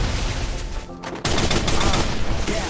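Loud, close gunfire in a 1v1 custom video game match, with a dense burst of shots, a brief drop, then another sustained volley of rapid automatic fire.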